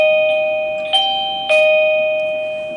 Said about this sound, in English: When the visitor presses the doorbell, we get notified immediately.